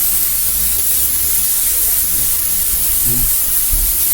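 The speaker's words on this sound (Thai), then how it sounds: "เดี๋ยวเรามาทดสอบกันในห้องน้ำนะครับ ว่า ประสิทธิภาพของเครื่องฉีดน้ำแรงดันสูง มันจะมีประสิทธิภาพแรงขนาดไหน" Steady, loud hiss of a homemade non-electric high-pressure water sprayer spraying continuously in a bathroom, a dense unbroken jet with faint low rumbles underneath and no talking.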